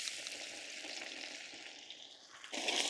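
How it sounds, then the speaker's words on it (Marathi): Garlic and cumin sizzle in hot oil in a kadai for a methi tadka. A bright, steady frying hiss fills the clip and swells louder toward the end, with no voices. "तेल गरम झालेलं आहे, आपण आता लसूण आणि जिऱ्याची फोडणी देऊन घेऊ।"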